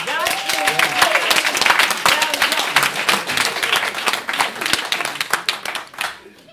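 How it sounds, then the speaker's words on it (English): Audience applause at an afternoon program congratulation gathering, a dense, steady patter of many hands clapping from start to finish, with a voice speaking briefly over the opening. "Give yourself a round of applause."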